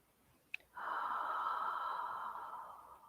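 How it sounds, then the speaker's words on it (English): A single deep breath drawn in close to the microphone during a guided breathing meditation, following a faint click and sustained for over two seconds as a steady airy rush that slowly fades, with no talking. "as we focus on our breathing"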